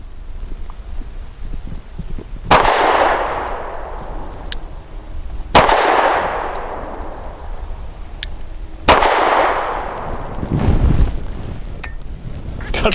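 Three loud gunshots from a Rock Island 3.1 inch double stack .45 pistol fired outdoors, evenly spaced a few seconds apart, each a sharp crack followed by a long echoing decay, over steady wind noise.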